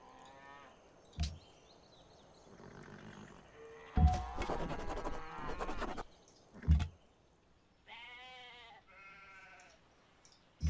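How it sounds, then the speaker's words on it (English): Several sheep bleat at intervals in Civilization V, some deep and drawn out, others higher and wavering, with a few thuds between calls and no talking. "Listen to all those sheep."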